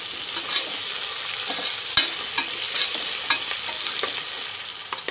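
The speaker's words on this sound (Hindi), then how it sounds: "एक ये मैंने प्याज 1 ली है, इसको मैंने चॉप कर लिया है बारीक, इसे भी हम डाल करके अच्छी तरह से भून लेंगे" Finely chopped onion frying in a pan for masala khichdi, a loud steady hiss of oil with occasional light scrapes and taps of a spoon, close by.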